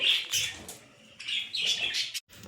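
A group of pet budgerigars chirps and chatters in bright, rapid bursts from close by, with one short pause and a brief gap near the end.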